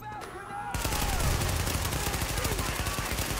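Gunfire in the shooter game The Division, a loud sustained automatic burst of rapid shots starting after a brief quieter moment and continuing to the end.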